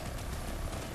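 Low, steady rumble of a tank engine in the video game Planetside 2, a faint droning hum that holds evenly throughout.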